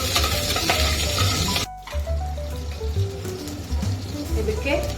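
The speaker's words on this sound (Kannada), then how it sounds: "ಈರುಳ್ಳಿ, ಚೆನ್ನಾಗಿ ಫ್ರೈ ಮಾಡ್ಕೊಂಡು" Onions with curry leaves frying in a pan for avarekalu sambar, a steady oily sizzle with scraping stirs, briefly broken by a pause before the frying resumes, close and fairly loud with a low hum underneath.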